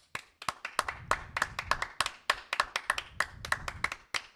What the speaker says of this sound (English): they applaud with cheering